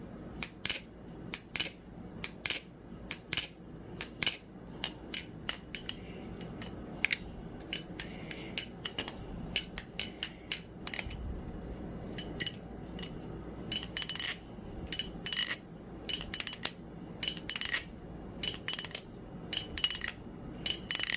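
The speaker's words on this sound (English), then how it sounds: "here's the very satisfying ASMR sound test for the Black Balisongs REAPER" A Black Balisongs Reaper balisong butterfly knife being flipped, producing rapid sharp metallic clicks and clacks in irregular bursts, close and crisp over a quiet background.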